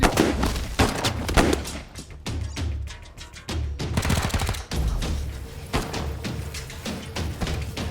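Sustained suppressing gunfire in the Wasteland 3 video game: dense bursts of automatic shots and heavy thuds rattle continuously, loud and close, with only brief lulls between volleys.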